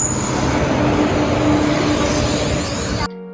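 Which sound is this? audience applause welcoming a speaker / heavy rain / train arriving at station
train arriving at station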